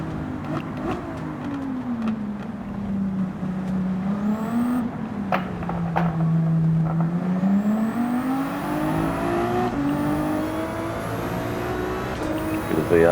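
A car engine in Gran Turismo 7 on a racing lap, droning steadily and rising and falling in pitch as the driver accelerates and eases off, with faint gear-shift blips and whines layered over continuous tire and wind noise.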